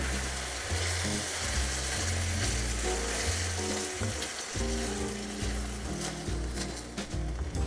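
Penne alla vodka sauce sizzles and fries steadily in a pan while being stirred, with a continuous close bubbling hiss under scraping and clinking strokes throughout.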